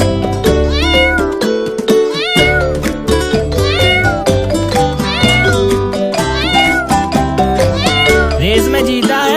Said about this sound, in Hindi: ये बिल्ली के बच्चे बहुत ही सुंदर रेस कर रहे हैं